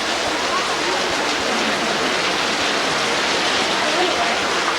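Steady rain pours down outdoors in Guatemala, a dense, even hiss that holds at a constant loudness throughout with no breaks.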